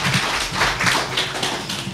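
Applause from a concert audience for a singer, a dense wash of clapping hands, loud and continuous across a short stretch.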